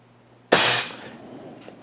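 A BSA Polaris .22 caliber air rifle fires a pellet: one sharp, loud crack after a quiet start, decaying over about half a second into a faint tail.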